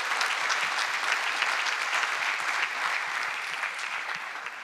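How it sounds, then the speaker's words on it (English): A seated audience at a talk on the Indian stock market gives a dense, sustained round of applause, evenly loud throughout with no voices over it. "let's give him a warm round of applause in appreciation"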